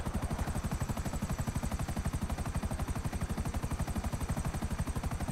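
A helicopter in the video game GTA 5 flies with steady, rapid rotor chop, a loud, continuous rhythmic thumping that fills the clip without any talk.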